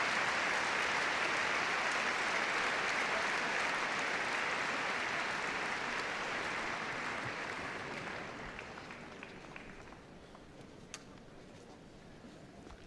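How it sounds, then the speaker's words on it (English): Sustained crowd applause fills an arena at the Crufts dog show during group judging of the working breeds, a dense steady clapping that gradually thins and fades over about thirteen seconds. "can you put your hands together? What a wonderful clap they have. It's a very appreciative crowd here,"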